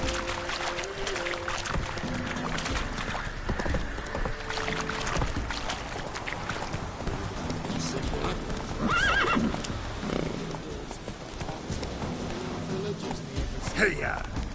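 A galloping horse in The Witcher 3: Wild Hunt, with steady clip-clop hoofbeats and a whinny, heard under game dialogue and background sounds.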